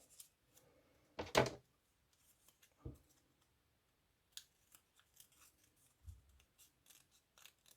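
Scissors trim paper for tea bag folding: one loud, sharp close snip, a softer cut a moment later, then faint light rustles and taps in a quiet room, with no talking.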